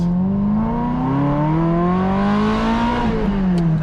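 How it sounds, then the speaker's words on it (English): A used vintage Ferrari engine revs with a strong, rising exhaust note whose tone climbs steadily and then drops off, loud and close throughout, with no voices over it. "That exhaust note. Oh, might be the greatest sounding car of all time, for sure."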